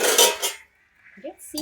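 A spoon stirs ghugni in a metal cooking pot, producing a short burst of scraping and clinking, then a pause and a couple of lighter clanks, close and fairly loud.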